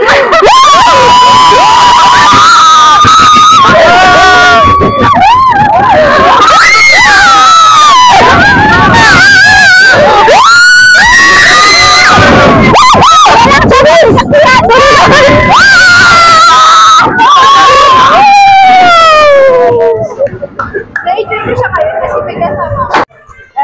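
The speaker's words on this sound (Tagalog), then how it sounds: "Consistent yung sigaw ni Shane, eh. Tower drop." Riders scream loudly on a drop tower ride at an amusement park, long overlapping shrieks and yells from a crowd close to the microphone that continue for most of the clip and then cut off.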